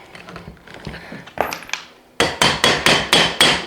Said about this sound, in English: Brought my trusty hammer with me